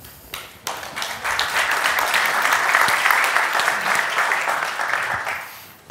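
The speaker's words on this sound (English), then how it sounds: "Applause." Sustained applause from a conference audience after a talk on large-scale 3D printing, dense clapping swelling quickly and holding steady at close range for several seconds.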